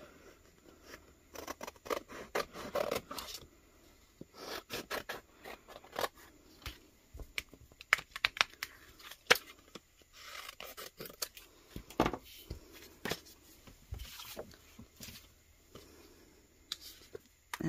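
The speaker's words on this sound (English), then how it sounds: "I'm going to cut it from the page." Scissors snip a bleach spot out of a page in a series of close, crisp cuts with paper rustling between them.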